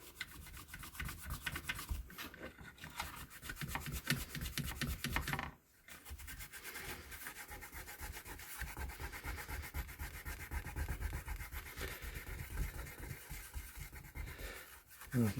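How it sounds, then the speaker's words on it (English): Steady rubbing and scrubbing as isopropyl alcohol clears old sticky-pad residue from a circuit board from a Celestion Ditton 33 loudspeaker, a continuous close, fairly loud rasping with one short pause midway and no talk. "bit of isopropyl alcohol, clean off the old residue"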